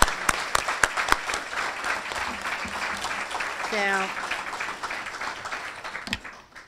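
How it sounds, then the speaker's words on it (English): Warm audience applause fills a women's achievement luncheon, steady clapping with a few sharp claps up front, and a speaker's voice briefly audible over it. "We'd like to applaud all your accomplishments."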